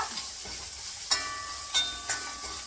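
Mustard seeds frying in hot oil, a continuous sizzle broken by a few sharp, distinct pops spaced about half a second apart, close up with no voices.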